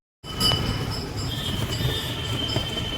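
A train rolls through Gomti Nagar railway station in Lucknow, a continuous close rumble with a thin high wheel squeal running over it, no talking.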